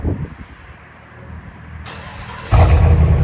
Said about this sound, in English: We swapped it out for a Super 10 race muffler Outlaw.